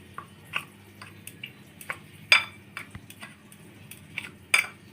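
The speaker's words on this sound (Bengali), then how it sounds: "সব কিছু ভালোভাবে মিশিয়ে নিব" Flour, semolina and salt are stirred together in a mixing bowl, producing soft scattered scrapes and sharp clinks of a spoon against the bowl in an irregular rhythm, quiet and close.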